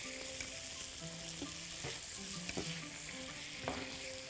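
Chicken shawarma pieces with garlic and chicken spices are tossed in a frying pan, giving a continuous sizzle with intermittent scraping and clatter from the utensil, close and moderately quiet, with no speech.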